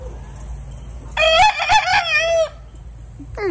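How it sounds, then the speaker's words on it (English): A rooster crows loudly and close by among backyard chickens, including a small bantam Cochin and a blue sex link hen, with a brief cluck afterward in hot, humid summer weather. "Miss Cochin is the little bantam chicken, and then that's my blue sex link here."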